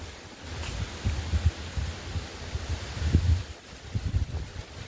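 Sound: strong wind blowing through coconut trees

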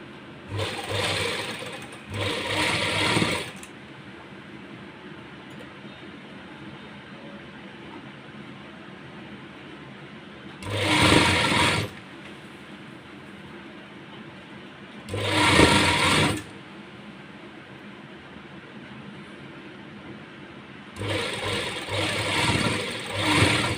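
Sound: sewing machine stitching palazzo pants

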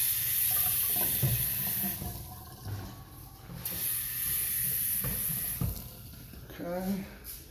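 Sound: faucet running water into sink

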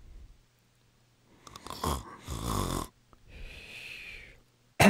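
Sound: person jokingly imitating snoring

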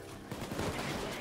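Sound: sniper rifle shot in video game Payday 2

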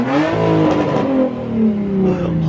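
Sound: Nissan GTR engine revving

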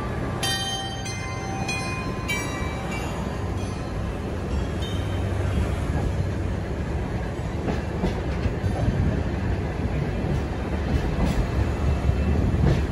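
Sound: Sagano trolley train running on rails

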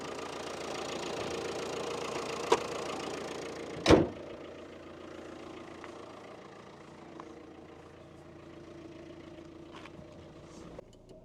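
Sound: Jeep Renegade engine running

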